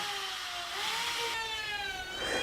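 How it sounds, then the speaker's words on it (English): A power drill whirs while pre-drilling holes in wooden drawer fronts, a close, steady motor whine that shifts pitch as the bit bites, heard alone for a couple of seconds. "Pre-drilling for the drawer fronts now."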